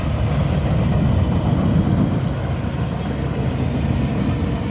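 A loud, steady rumble and roar of a commuter train passing through Acton, California, broadband and continuous, with no voices.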